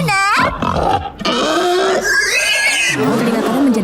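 A Monster High cartoon character's voice turns into loud, close pig oinks and grunts, a rapid series of squealing, snorting cries standing alone in the foreground.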